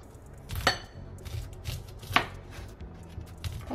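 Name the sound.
corn being crushed on a cutting board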